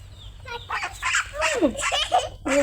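A flock of ducks, young and full-grown, quacks in a run of close, repeated calls over a steady low hum.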